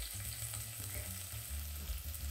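Green onion sautéing in a pan of butter and olive oil gives a steady, close sizzle and crackle that holds throughout, with no voices.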